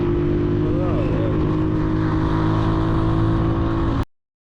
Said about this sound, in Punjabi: ਖੁੱਲ ਕੇ ਮੋਟਰਸਾਈਕਲ ਚਲਾਈ ਹੈ